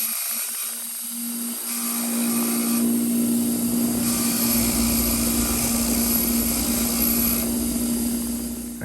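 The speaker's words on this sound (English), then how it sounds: "I'm going to clean them up on the wire wheel" A bench-mounted wire wheel spins steadily as brake caliper mounting bolts are held against it for cleaning, a continuous loud high-pitched whirring grind that ramps up at the start and holds for several seconds with no talk.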